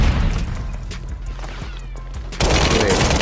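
Rapid gunfire in the video game Call of Duty Warzone, a loud dense volley of shots crackling close for about two seconds, then a sudden louder burst of noise at the end.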